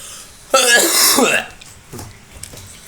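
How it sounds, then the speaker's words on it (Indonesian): A single harsh, throaty cough bursts out close to the microphone, followed by a quieter clearing sound and some faint murmuring. "Maaf saya batuk"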